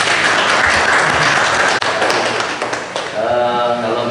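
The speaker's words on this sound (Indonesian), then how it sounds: "Tepuk tangan, Pak." Applause from a village gathering in Telogorejo, East Lampung, a dense broadband patter of many hands filling the space, easing slightly toward the end as voices start to emerge underneath.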